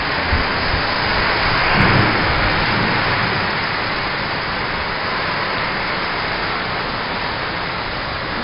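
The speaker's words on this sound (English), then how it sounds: "When did it start raining here?" Steady, dense thunderstorm rain pours down without pause in Kalamazoo, Michigan, with a low rumble swelling briefly near the start and fading into the constant wash.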